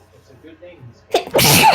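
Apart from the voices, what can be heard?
sneeze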